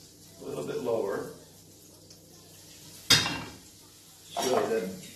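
Eggs and milk whisked in a bowl for a chili cheese omelette, heard as two bursts of clinking, scraping utensil strokes against the bowl, separated by a sharp knock and quiet stretches.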